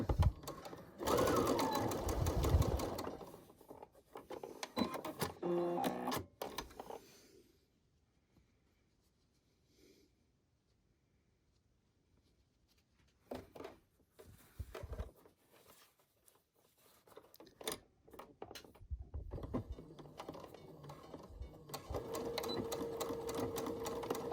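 A sewing machine back stitches the seams of a fabric face mask in two loud bursts, with a long quiet pause between them as the machine stops.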